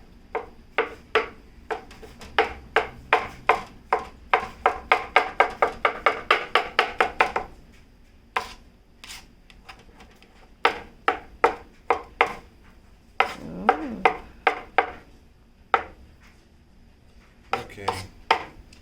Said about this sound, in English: And so just roughly chop that up.